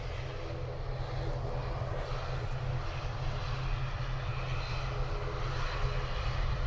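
An ATR 72-600 turboprop airliner at Dublin Airport holds a loud, steady propeller drone with a deep low rumble and broadband roar, continuous and close for several seconds.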